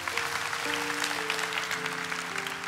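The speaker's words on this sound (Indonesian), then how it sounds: "Kasih tepuk tangan tuh Tuhan." Congregation applauding at a church sermon, a steady wash of clapping over a sustained organ or keyboard chord that shifts notes beneath it.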